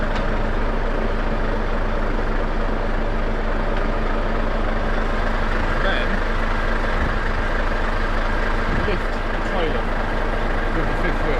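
An HGV truck reverses its fifth wheel under a trailer, a steady diesel idle and low engine rumble running throughout at moderate level, with a faint hiss and a few small knocks.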